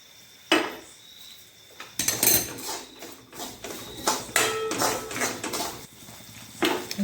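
Semolina roasting in ghee is stirred in a pan with repeated metallic scrapes and clinks of the spoon against the pan, irregular and close, alone without talk.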